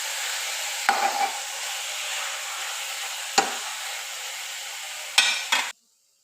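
Chicken fries in a pan with a low, steady sizzle, broken by three sharp scraping stirs spaced a couple of seconds apart before it cuts off suddenly.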